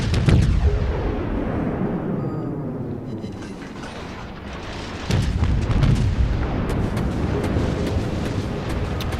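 Battleship main guns firing in World of Warships at the Gneisenau: a loud, heavy booming salvo opens, its rumble decays, then a second deep blast follows and rolls on with sustained low-end roar.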